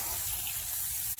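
Water pours from a tap over pink aventurine stone chips in a sink, a steady broadband splash and gush held at even level from start to finish, with a brief dip near the end.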